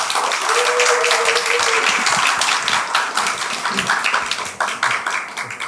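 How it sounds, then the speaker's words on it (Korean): A lecture-hall audience claps warmly to welcome the academy's head director to the stage at an English academy information session, dense applause that holds steady, then thins into scattered claps with a faint voice underneath. "뜨거운 박수로 맞이해 주세요."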